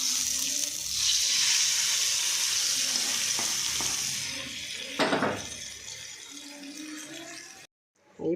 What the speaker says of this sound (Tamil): இப்போ அடுப்பை ஆஃப் பண்ணிவிட்டு கருவேப்பிலையை போடுவோம்.